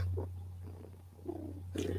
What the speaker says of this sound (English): when she start purring and stuff